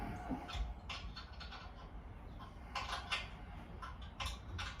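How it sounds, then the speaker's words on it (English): Mechanical clicks and ratcheting scrapes of a wrench working on the starter bolts of a worn, blown small block engine, coming in short irregular bursts at close range, with no talking. "I got to unbolt the starter."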